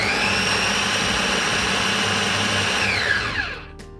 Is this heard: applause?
no